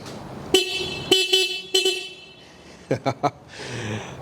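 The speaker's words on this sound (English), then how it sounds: "Horn check for the C400 GT." A BMW C 400 GT scooter horn honks three times in separate bursts, then gives three quick short toots; loud, high-pitched and close, with quiet pauses between.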